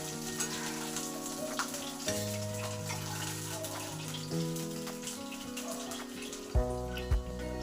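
Pieces of rohu fish sizzling in hot oil in a pan, a steady fry crackle under background music, with a couple of louder clinks near the end.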